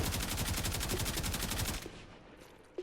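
Rapid automatic gunfire from the Kuva Karak rifle in Warframe, a loud, steady burst of rounds that runs for nearly two seconds, then cuts off, leaving a faint tail and one brief later thump.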